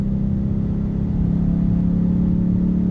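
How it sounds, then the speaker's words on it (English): A Ford Mustang GT S550 with coilovers and an open catback exhaust with the muffler removed drones with a loud, steady low engine roar during a downshift rev, heard from inside the car without talk. "Love the downshifts. It sounds so damn crisp."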